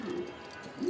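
A single soft, low coo from a pedigree racing pigeon, short and fairly close, with no other sound around it.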